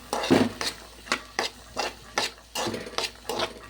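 Boiled chickpeas being stirred into ground green chillies in a pan, giving a steady run of close scraping, clinking utensil strokes at an even rhythm with a faint sizzle underneath.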